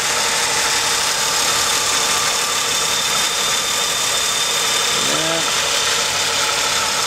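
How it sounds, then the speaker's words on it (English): A 1994 Lincoln Continental V6 idles smoothly and quietly under the hood, a steady low hum with a faint whine, with a brief voice near the end. "Exhaust shield is underneath, way in the back, so you can't hear it up here, but the engine is very quiet."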